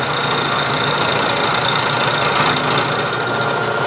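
An end mill cutting a slot on a milling machine with the table locked, giving a loud, steady grinding whine with constant broadband noise and no pauses.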